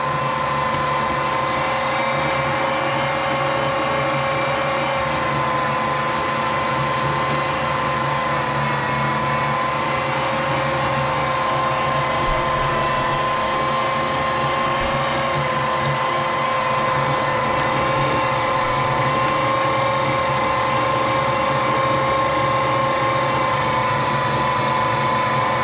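A heavy-duty electric meat grinder and sausage maker grinds meat with a steady, loud motor drone and faint mechanical rattling that runs unbroken throughout, with no talk over it.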